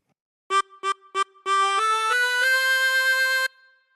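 A harmonica plays a phrase of Hey Diddle Diddle alone and up close: three short separated notes, then several longer connected notes that step upward and end in a sustained held tone.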